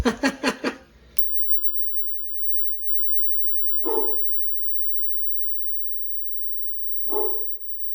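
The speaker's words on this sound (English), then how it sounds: "That's my dog barking." A dog barks in a quick burst of several sharp barks, then two single barks follow after pauses, fairly distant, with quiet in between.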